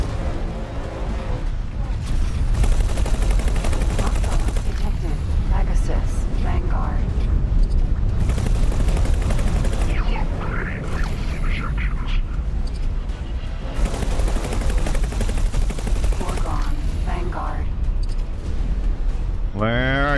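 Weapon fire in X4 Foundations space combat, a dense stream of rapid bursts and crackling blasts over a steady engine rumble, loud and continuous, with a voice talking over it.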